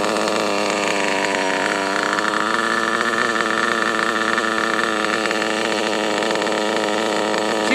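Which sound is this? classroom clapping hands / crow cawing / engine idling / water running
engine idling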